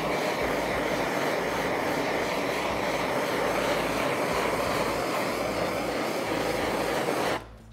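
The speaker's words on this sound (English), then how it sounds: "if you are going to use a propane torch, go ahead and use a circular motion" A propane torch flame roars steadily and loudly at close range while heating a ceramic shell, a dense continuous rushing hiss that cuts off abruptly near the end.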